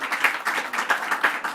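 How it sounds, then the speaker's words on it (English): An audience applauds Holocaust survivors at a New York government announcement, a brief burst of dense, even clapping at moderate loudness. "Let's give you a round of applause for the lessons you are teaching all of us"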